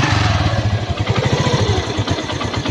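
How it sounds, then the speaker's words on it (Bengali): A 2022 TVS Metro 100cc motorcycle idling with the throttle free, a loud, close, steady, rapid putter with a mechanical clatter, no talk over it. "এটা ফ্রি অ্যাক্সেলেটারের ইঞ্জিনের সাউন্ড, একদম কিন্তু নতুনের যে সাউন্ড সেই সাউন্ড কিন্তু আছে"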